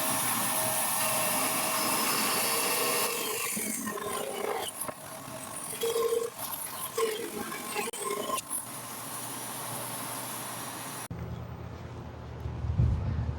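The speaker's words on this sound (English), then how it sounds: "let's get started and get it on the bandsaw" A bandsaw cutting an acacia log gives a loud, continuous whining roar with uneven surges mid-cut, then cuts off abruptly, leaving a quieter low rumble.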